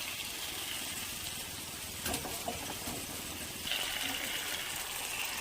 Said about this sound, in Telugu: ఇందులో ముందుగా మరిగించుకున్న వాటర్ వేసుకుందామా.